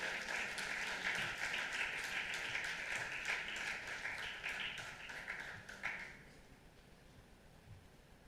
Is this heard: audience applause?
yes